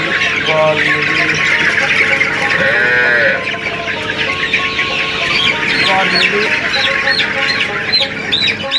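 A crowd of Sonali chickens clucks and squawks loudly and continuously, many birds calling over one another close by.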